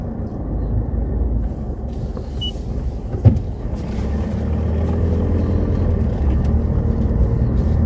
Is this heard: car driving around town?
yes